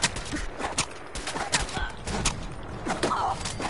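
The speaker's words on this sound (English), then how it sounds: "We're popping shotgun." Shotgun fire in Fallout 4: a rapid barrage of loud, close blasts and thuds packed densely together, with overlapping echoes and impacts and no clear pauses.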